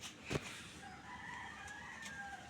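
A rooster crows faintly in the distance, a thin drawn-out call over low outdoor background noise, with a brief louder knock near the start.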